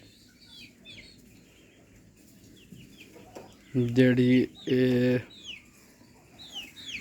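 Aseel chickens cluck nearby in a village yard, with two loud drawn-out calls in the middle, softer chirps of other birds around them, and a few brief spoken words.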